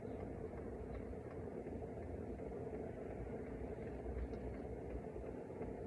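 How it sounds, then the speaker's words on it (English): A BougeRV diesel heater's pump runs with a low, steady mechanical hum and rumble that drones on without pause, an even running machine sound with no voices. "the pump is getting quieter"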